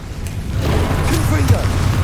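An Incendio fire spell cast in Hogwarts Legacy, a deep booming, roaring burst of flame that swells and holds steady for about two seconds, with a rumbling low end and a brief voice-like tone partway through.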